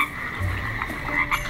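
A frog croaks in a short, raspy run of low pulses over a faint, steady background tone, fairly quiet and without any talking.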